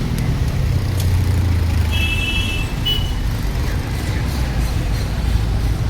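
Car being moved along a busy road, with a steady low rumble of engines and passing traffic throughout and a brief faint beep partway through.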